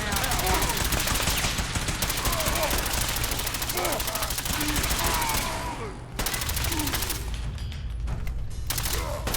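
Sustained automatic gunfire rattles in Fallout 4, rapid continuous bursts loud and close, pausing briefly midway before resuming, with a voice talking over it.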